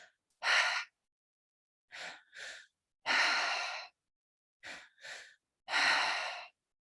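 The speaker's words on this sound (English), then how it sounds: "It's an inhale into the belly, into the chest, and then exhaling through the mouth." During a breathing exercise demonstration at a new teacher training session, a person breathes in three cycles, each a double-step inhale into the belly and chest followed by a long, breathy exhale through the mouth, close and distinct against silence.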